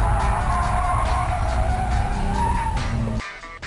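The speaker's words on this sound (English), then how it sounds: "pull the e-brake and then quickly counter steer and go through the moderate gas" A car drifts through a turn under e-brake and throttle, its tires skidding and squealing loudly over a steady engine drone before the sound cuts off abruptly.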